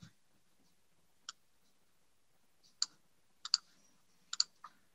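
A computer mouse clicks sharply about seven times in a quiet room, single and double taps spaced irregularly, close and crisp against near silence.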